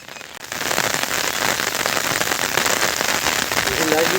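Unseasonal rain falling over farm fields near Puranpur, a steady, dense hiss of drops striking surfaces that starts abruptly and continues evenly and loud throughout.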